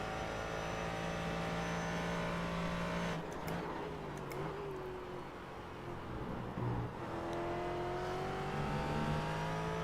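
Ford GT race car engine in the iRacing sim at Interlagos, a continuous high droning whine that dips and shifts pitch as it lifts off and accelerates again, loud and alone.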